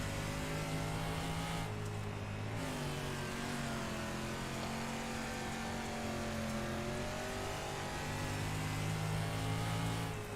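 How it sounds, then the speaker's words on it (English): A dirt street stock race car in a sim racing game, on track at Charlotte, holds a continuous engine note that rises and falls as the revs change, with a short dip in the middle. No one speaks. "And you can hear the engine sound changing."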